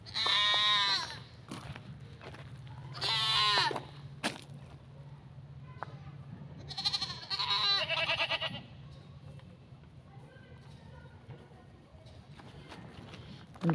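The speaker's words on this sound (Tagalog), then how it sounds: "Ano mga kanding." Goats on a farm bleat in several loud, wavering calls that come in separate bursts with pauses between them, near the listener over a steady low background hum, with no talk.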